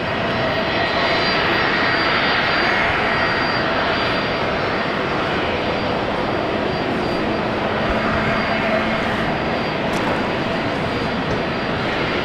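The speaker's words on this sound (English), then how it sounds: "Another Fokker pushback." Fokker aircraft at Brisbane International Airport during pushback, a loud continuous engine roar and whine filling the scene at close range, steady throughout with no speech.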